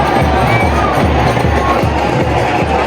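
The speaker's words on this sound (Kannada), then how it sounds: "ಗೈಸ್ ಕ್ರೌಡ್ ಹೆಂಗ್ ಚೀರಾಡೋದು ಕೇಳ್ರಿ, ಯಾವ ಥರ ಚೀರಾಡೋದು ಇಷ್ಟು" A dense crowd screams and cheers without a break at the Siddharudha fair chariot festival in Hubballi, loud and close, with low thumps pulsing steadily underneath the roar.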